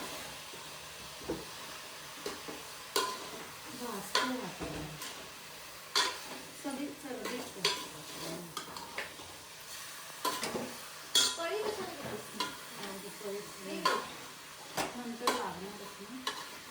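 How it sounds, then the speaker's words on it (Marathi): Mutton being stirred with turmeric and salt in a pan, a spoon scraping and clinking against the metal in an irregular rhythm over a soft sizzle, close by with no talking. "आणि लगेच मीठ वगैरे टाकून घेतलं आणि हलवून घेतलं"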